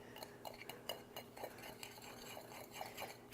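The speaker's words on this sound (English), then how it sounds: "And just whisk this all together so that it's nice and combined." A whisk clinks against a bowl while spices and coconut sugar are mixed into a rub, with a steady run of light metallic taps and scrapes at close range and no voices.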